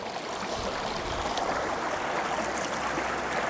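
A big, wide creek rushes past where a sluice box is set up for gold prospecting, its broad steady wash of flowing water filling the scene without a break.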